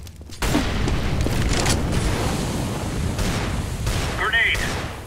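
A grenade blast in a CS:GO match on de_nuke sets off a sudden loud boom, followed by sustained rumbling, crackling gunfire and a later sharp burst, with voices speaking over the chaos.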